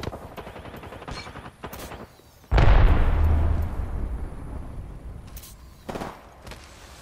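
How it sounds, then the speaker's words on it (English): A thermite grenade in a video game bursts into a loud, sudden whooshing ignition with a heavy low rumble, then burns down as a steadily fading hiss, with faint game effects before and after. "Throwing thermite grenade."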